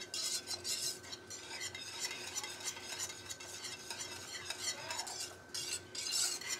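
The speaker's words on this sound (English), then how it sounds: "add some of the grits and whisk with my little mini whisk here" A mini whisk beating grits in a pot, rapid rhythmic metallic scraping and clinking that swells and fades, close and moderately quiet.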